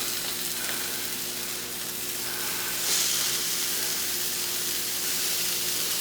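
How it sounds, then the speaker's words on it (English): Meatballs sizzle in a hot skillet with a steady, close, continuous crackling hiss that holds at the same level throughout, with no talking. "we are going to start placing them in this hot skillet"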